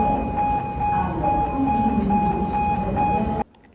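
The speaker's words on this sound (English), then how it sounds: "Here's a quick look at the platform at Sadat Station when taking the Shobra line" A Cairo metro train on the Shobra line rumbles steadily alongside the platform at Sadat Station, a loud sustained drone with a faint electric whine, cutting off abruptly just before the end.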